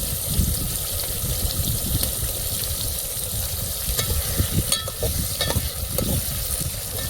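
Onion and tomato stirred in a hot cooking pan, a steady loud sizzle with scraping spoon strokes and occasional clinks throughout, no talking.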